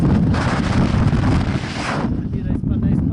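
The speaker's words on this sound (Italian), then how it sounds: "sentite che vento che c'è sta qua" Strong wind gusts roar across a mountain saddle between Terminillo and Terminilletto in fog at altitude, a loud, continuous buffeting rush against the microphone that eases slightly toward the end.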